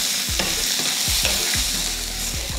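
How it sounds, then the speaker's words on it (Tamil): Beetroot sautés in oil in a pan with a loud, constant sizzle, while a spatula scrapes through it in regular, repeated strokes. "இந்த எண்ணெயிலேயே நல்லா பீட்ரூட் வந்து வெந்து வரணும்"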